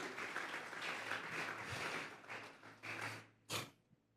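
A church congregation gives a burst of applause that fades out, followed by a last short clatter of claps.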